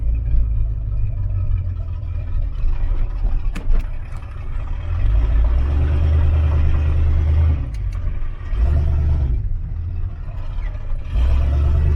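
A turbocharged small-block Chevy Camaro with FiTech fuel injection rumbles low and steady from inside while driving, the engine note swelling and easing as it is downshifted manually.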